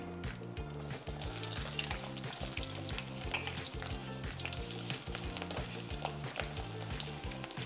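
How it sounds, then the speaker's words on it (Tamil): Curry leaves and small shallots fry in hot oil for a traditional paruppu urundai kulambu, giving a continuous crackling sizzle with stirring scrapes throughout, close and with no voices. "நம்ம உரித்து வச்ச சின்ன வெங்காயம் போட்டு கொஞ்சம் லைட்டாக ஃப்ரை ஆனோடனே"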